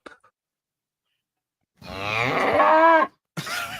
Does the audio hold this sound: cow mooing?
yes